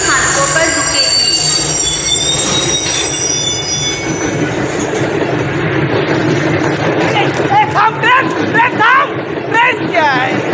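A local train pulls away from a station platform with loud rumbling, clattering wheels and high metallic squeals, while people chatter nearby.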